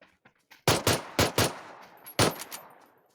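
Rapid gunfire in a video game, a handful of sharp, loud shots in quick bursts with short gaps and a final pair of shots, close with echoing tails.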